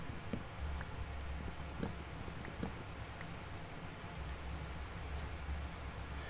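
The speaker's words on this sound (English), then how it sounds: "At this point, I'm having to go around just dodging rain." Rain in a modded overworld video game, a steady even hiss of falling drops with faint scattered ticks, continuous and moderately loud with no voices.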